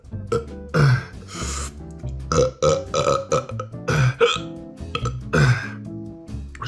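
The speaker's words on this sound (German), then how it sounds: "Schluckauf ist auch da." Hiccups after swallowing Mad Dog 357 hot sauce: a run of about seven or eight abrupt, throaty hic bursts, close and loud, spaced irregularly with short gaps.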